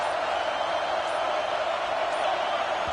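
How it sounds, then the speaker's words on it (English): A packed football stadium crowd roars loudly and steadily during the fourth quarter of a USC vs Washington game, a dense, continuous wall of noise that never lets up. "with this place rocking, the crowd forces a false start"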